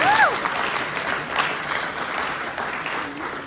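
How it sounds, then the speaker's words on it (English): An audience applauds its trainers at an awards banquet, with steady moderate clapping, a couple of sharp whistles near the start, and a faint voice under the crowd. "So big round of applause for all of our trainers."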